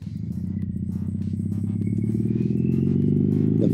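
A Triumph Bonneville 865 motorcycle is ridden, its engine thrumming steadily and close and gradually growing louder as it pulls, with a low rumbling drone throughout and no talking.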